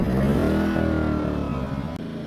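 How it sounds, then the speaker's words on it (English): An old generator engine with over 1,000 hours of use runs loudly and close by, a rough, steady mid-pitched drone with a strong low rumble and pulsing harmonics. "So that's why I decided to get a new one, because it's still running good."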